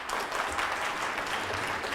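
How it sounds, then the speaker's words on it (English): A crowd cheers and applauds steadily for an indigenous Hawaiian hula dance performance by a dance theater group, a dense, continuous wash of clapping and voices with no pauses. "The crowd cheered as Tau Dance Theater took center stage to perform indigenous Hawaiian dances"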